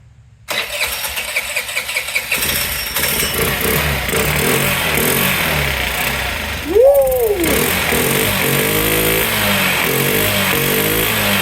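A Honda CH80 scooter fitted with an aftermarket carburetor cranks and fires up, then settles into a steady close idle with a brief rev partway through.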